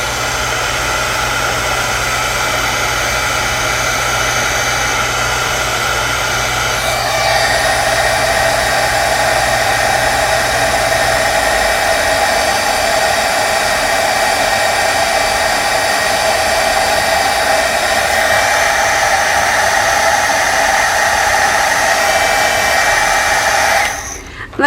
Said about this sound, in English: let your heat tool warm up a little bit before you heat set